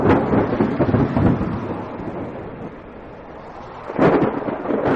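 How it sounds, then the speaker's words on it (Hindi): Steady rain pours in a cartoon story scene, a dense broadband hiss with rumbling swells at the start and again near the end, no voices over it. "उनके लिए यह पहली बारिश थी जो उन्हें किसी अजूबे से कम नहीं लग रही थी।"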